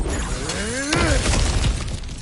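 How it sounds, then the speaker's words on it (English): Objects smashing and breaking apart in God of War Ragnarok, a sharp crash near the one-second mark followed by scattered debris clatter, with a sweeping tonal sound running under it. "back to smashing through things for fun and profit"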